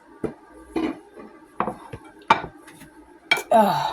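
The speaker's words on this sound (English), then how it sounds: "that can all go in the crock pot" Ingredients going into a crock pot at home, heard as a series of separate clinks and knocks of utensils against the cookware, close and spaced out, ending in a longer scraping clatter.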